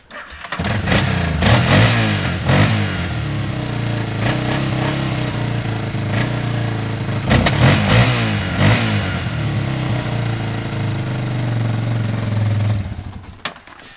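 A loud quad ATV engine roars continuously, its revs rising and surging in bursts before dropping off near the end.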